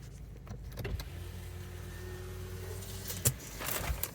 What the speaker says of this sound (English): So I'm just gonna park the car